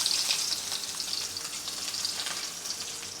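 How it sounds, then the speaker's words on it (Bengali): Meat frying in a pan with chopped onion, a close, continuous bright sizzle with a light stirring texture, steady and alone. "পেঁয়াজ কুচি দিয়ে মাংসটা ভেজে নেব"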